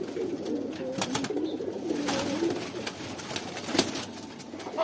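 Red zira khaki pigeons coo in repeated soft, throaty bursts at close range, with faint rustling and wing or movement noises between calls.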